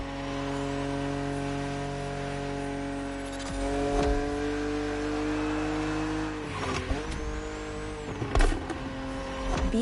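A BMW Z roadster's engine drones steadily in a racing video game, holding a sustained tone before shifting pitch and revving, with faint tire noise and brief bumps near the end.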